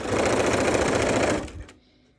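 A sewing machine stitches rapidly through three thicknesses of cotton fabric for a Christmas countdown calendar, running in a steady, close burst for about a second and a half before slowing to a stop.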